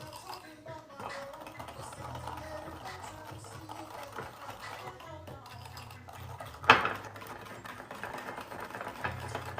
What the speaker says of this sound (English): Whisk it together until well combined.